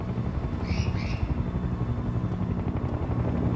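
Helicopter arriving in the Sniper Ghost Warrior 2 video game: a steady, loud low rotor drone and engine rumble holds throughout, with a brief bird-like chirp near the start.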